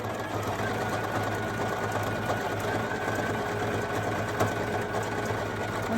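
Poolin EOC06 embroidery machine stitching, a fast continuous mechanical whir and rattle with a steady motor hum, close and even throughout with no pauses or voices.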